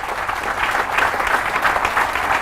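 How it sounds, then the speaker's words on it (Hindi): Steady audience applause at a sales objection-handling training session, dense and continuous clapping from a crowd throughout, fairly close and with no speech over it. "इस बात पे जोरदार तालियां होनी चाहिए हमारे"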